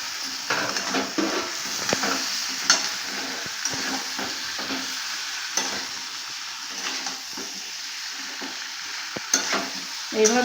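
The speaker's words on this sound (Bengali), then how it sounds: "সমস্ত সবজিগুলো আমি দিয়ে নাড়াচাড়া করে নেব এইভাবে" Mixed vegetables being stirred in a hot frying pan for a Bengali fish-head chhechra, a steady sizzle under repeated scraping and clanking strokes of a spatula, close and fairly loud with no talking.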